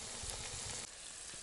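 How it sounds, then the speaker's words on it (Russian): Mushrooms fry with potatoes in a pan at a forest camp, making a dense, fairly loud sizzle and crackle that eases slightly partway through. "Грибочки жарятся."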